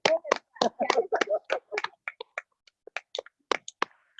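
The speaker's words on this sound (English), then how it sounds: "Yeah, please clap." Sparse, scattered hand claps from a small audience at a senior llama showmanship event, a few irregular claps that thin out and trail off, close and moderately loud.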